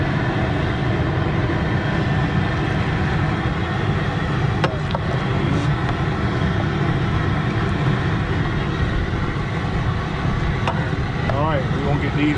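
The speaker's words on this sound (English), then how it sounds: "We got a rolling boil." A large outdoor pot of Louisiana crawfish at a rolling boil over a gas burner, a loud constant roaring hiss of burner and bubbling water with a few faint clicks.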